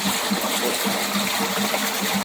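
Refrigerant gas released from a dehumidifier into water, a steady bubbling, gushing rush of gas through the liquid, loud and close, with no talking.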